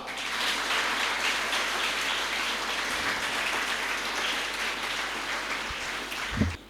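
Sustained audience applause at a school Defence Day ceremony in Sialkot, dense and steady for several seconds with no talk over it, ending with a brief low thump near the close.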